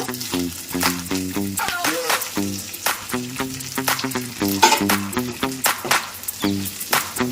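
Drumstick leaves frying in oil in a pan, a loud steady sizzle under a prominent tonal hum-like pattern, with occasional clatters from stirring.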